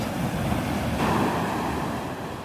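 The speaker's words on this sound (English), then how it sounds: "Listening to the waves." Ocean waves washing onto Vanderbilt Beach on a calm morning: a continuous surf roar with a swelling wash midway, mixed with light wind buffeting the microphone, no voices.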